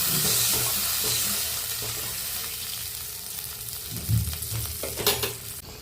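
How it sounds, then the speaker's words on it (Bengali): Paneer curry masala sizzles and fries steadily in a pan after water is poured in, a close, hissing crackle with occasional stirring scrapes and soft bubbling bumps near the end. "এবার জল দেবো।"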